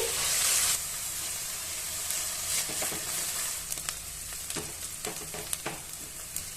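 Finely chopped onions frying in a pan for crab pepper masala, a steady sizzle with occasional stirring scrapes and crackles, close and alone without voices.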